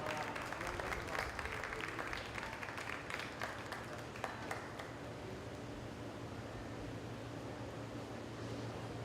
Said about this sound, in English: let's give all these exhibitors a big round of applause